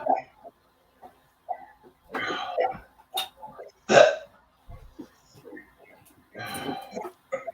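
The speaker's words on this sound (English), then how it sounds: "I wish these hiccups would turn to burps." A person hiccups repeatedly during an endurance challenge, sharp isolated gulping spasms at irregular intervals, with some breathy throat noises in between.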